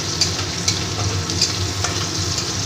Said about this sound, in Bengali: ফোড়নটা আমি ভেজে নিয়ে তারপর আলুগুলোকে আমি ভাজবো ভালো করে